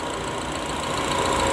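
A BMW X1 engine with a leaking valve cover gasket idles steadily, giving a continuous close, even mechanical hum with no break or change in level.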